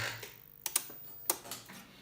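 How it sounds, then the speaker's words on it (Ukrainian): Relays inside an Altek PowerEdge AL 600 portable power station clicking as it fails to deliver output, a handful of sharp close clicks spread irregularly over two seconds. "Ось клацає релюшками навіть не пробує потужність подати."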